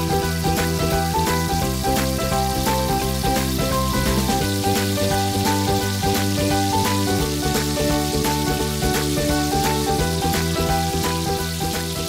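Puris deep-fry in hot oil over a medium flame, a continuous, dense sizzle with rapid crackling bubbles running steadily and close throughout, no talking.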